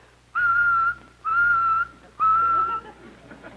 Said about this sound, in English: This kettle whistles like this.